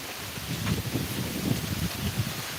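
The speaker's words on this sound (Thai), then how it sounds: "ลม แรง มากเลยค่ะ" Strong wind gusting across a chicken farm as rain threatens, a steady broadband roar with low buffeting rumbles against the microphone, loud and close, with no talking.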